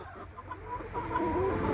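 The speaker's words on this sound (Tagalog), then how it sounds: "Nasa loob yung mga manok" Chickens cluck and murmur nearby inside their coop, soft overlapping calls against a low outdoor background hum in snowy surroundings.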